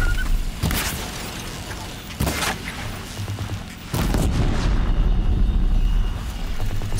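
Blast arrows from Horizon Zero Dawn explode in a few loud, broad booms, each followed by sustained rumbling debris and machine combat noise that stays dense and close throughout.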